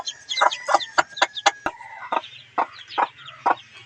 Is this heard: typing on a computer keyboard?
no